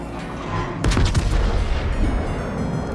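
Naval guns in a World of Warships-style game boom out HE shells at close range, with a sharp broadband blast near the one-second mark followed by a rolling, rumbling tail of further low booms.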